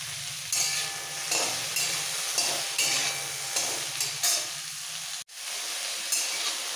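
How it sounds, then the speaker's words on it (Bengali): Fresh drumsticks and okra, seasoned with salt and turmeric, frying in oil in a pan: a soft steady sizzle rising in repeated bursts as the vegetables are stirred, with one sharp knock near the end. "সজনে ডাঁটা ঢেঁড়স হালকা ভাজা হয়ে গেছে"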